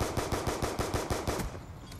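Pistol fired rapidly in the shooter Black Ops 2, about ten evenly spaced sharp shots in quick succession, close and punchy, then a sudden stop.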